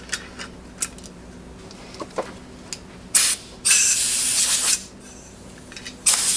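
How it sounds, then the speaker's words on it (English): An air blower clears thread sealant debris from paint pressure tank valve fittings: a few sharp clicks and ticks, then loud bursts of hissing air, one sustained for about a second, close by. "you're just blowing it out with the blower."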